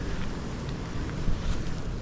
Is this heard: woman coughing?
no